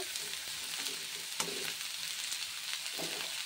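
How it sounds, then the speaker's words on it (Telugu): Vegetables fry in a pan for a Mumbai-style veg sandwich, giving a constant bright sizzle with scattered crackles and a few soft scraping stirs throughout. "సగమే వేగాలండి, సగమే ఫ్రై అవ్వాలి, ఎక్కువ ఫ్రై అవ్వకూడదు."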